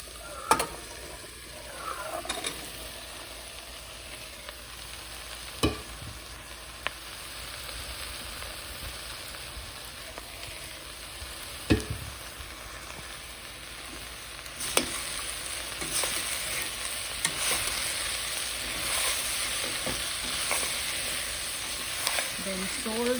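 Whole vegetables for vegetable khichdi sizzle and fry steadily in a pot, with occasional sharp clinks and scrapes of stirring and the frying growing louder toward the end.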